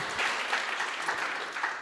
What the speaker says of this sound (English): Let's have a round of applause for Piotr again.